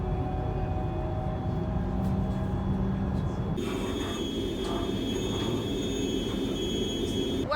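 A train carries passengers into Brussels, a constant rumble of wheels on rails with a steady hum and a change in tone partway through, loud and continuous with no one talking.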